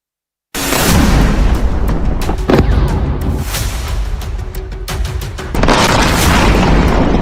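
Air strikes on military bases in southern Iran produce a loud, heavy boom followed by sustained roaring rumble and debris crackle, with a second surge of blast noise near the end.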